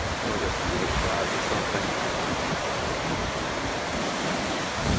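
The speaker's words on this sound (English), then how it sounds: "Let's just take a walk through the ocean." Ocean waves break on a beach in a dense, continuous wash of surf noise, steady and fairly loud from start to finish, with no voices.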